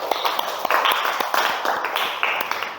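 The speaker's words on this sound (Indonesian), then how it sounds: "Beri tepuk tangan dulu sama temannya." Second-grade children in an Indonesian classroom clap for a classmate, a rhythmic patter of many small hands, with a teacher's voice heard amid the clapping.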